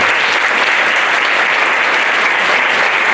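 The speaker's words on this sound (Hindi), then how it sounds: "और जोर से ताली बजाते हैं" A church congregation at a Sunday service claps loudly together, a dense, steady wall of applause that fills the room and lasts the whole stretch without talk.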